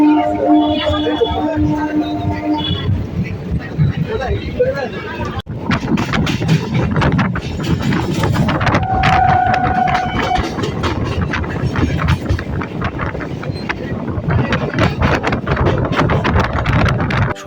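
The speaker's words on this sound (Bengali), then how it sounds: "ট্রেনটা এই মুহূর্তে ছেড়ে দিল সোনারপুর জংশন থেকে" A crowded local train pulls out of Sonarpur Junction on the Sealdah–Lakshikantpur line, its broadband rumble and wheel noise rising steadily and filling the whole span, with wind buffeting and voices of passengers mixed in.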